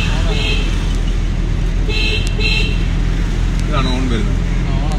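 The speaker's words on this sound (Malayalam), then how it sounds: "ഇതാണ് ഓൺ വരുന്നത്, ഓണിന്റെ അല്ലേ," A used Chevrolet Beat's car horn sounds in two short honks, then a fainter third, over steady traffic and engine rumble while someone talks.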